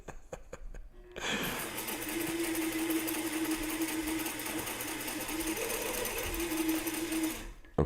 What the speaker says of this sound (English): for pretty much a free sewing machine from the 60s